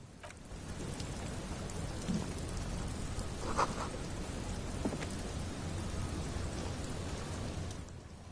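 Steady, heavy rain pours without a break, with a low rumble of thunder beneath it. The sound is close and even throughout, and no voices are heard.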